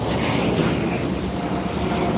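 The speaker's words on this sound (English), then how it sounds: "Got a plane taking off over there." An airplane taking off roars as a steady, loud broadband rumble during an outdoor morning walk, continuous for the whole stretch with no other distinct sounds.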